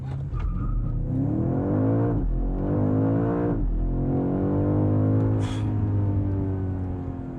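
A 2025 BMW M5 Touring's 727 hp engine revs and accelerates hard, its loud roar rising and falling through several gear changes, close and continuous with no talking.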